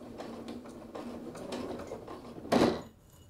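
A sewing machine stitches a kangaroo pocket onto a light-to-medium weight sweatshirt, giving a close, steady mechanical whir with rhythmic clatter that swells into a louder burst near the end before stopping.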